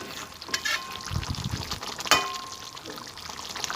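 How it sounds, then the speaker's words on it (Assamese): Chicken pulao gravy thickened with gram flour simmers in a pan, with soft bubbling and a few louder pops and splutters close up, fairly quiet overall. "এতিয়া সেয়া চাওক ধুনীয়াকৈ উতলি আছে"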